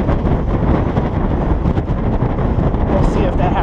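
Strong wind buffets a microphone during a night ride on a Cannondale F4000sl bike, a loud, continuous rough roar with no clear pauses.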